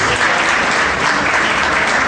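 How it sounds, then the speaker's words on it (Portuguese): Church congregation in a Portuguese-language service bursts into loud, dense applause, a close, continuous roar of clapping with no pause. "Aplauda o Senhor em nome de Jesus"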